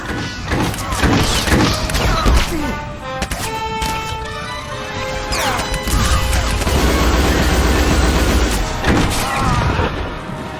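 Soldiers open fire in a battle, with loud, dense bursts of gunfire, crashing impacts and booms that run nearly continuously, with brief tonal effects over a heavy low rumble.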